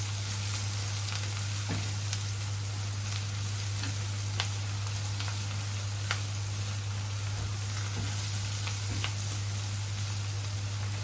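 Green chillies and food sizzle and crackle steadily in a hot pan, with occasional sharp pops and a constant low hum underneath.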